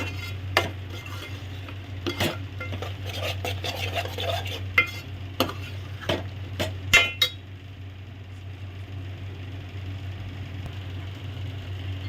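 Biryani masala is stirred into a one-pot vegetable biryani in a metal pot with scattered scraping and clinking spoon strokes and a faint sizzle underneath, close by, then a quieter simmer.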